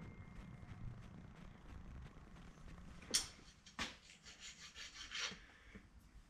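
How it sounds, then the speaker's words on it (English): Hand deburring and cleaning drilled aluminum airplane spar parts, soft scraping and rubbing strokes with a few sharper metallic scrapes and knocks, quiet and close with no voices. "I'm just doing some little deburring and touch-ups and cleanups."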